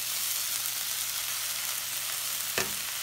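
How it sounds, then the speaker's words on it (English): Onions fry in a pan as a cooking topping, giving a steady close broadband sizzle throughout with a brief sharp clink near the end; no one talks. "Okay, so I'm cooking the onion."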